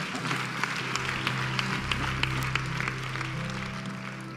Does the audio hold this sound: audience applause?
yes